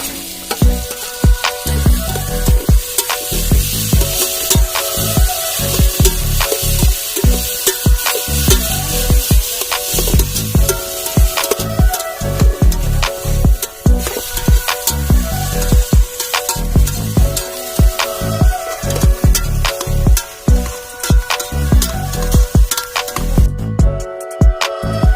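Onions and green chillies sauté loudly in a pan, a continuous frying sizzle broken by rapid rhythmic stirring scrapes and taps, close and dense throughout.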